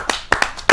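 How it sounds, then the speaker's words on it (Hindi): Scattered hand claps from the audience at a Hindi kavi sammelan poetry gathering: about six separate, sharp claps in an uneven rhythm, close and fairly loud, with no voices. "आपकी जोरदार तालियां मिले"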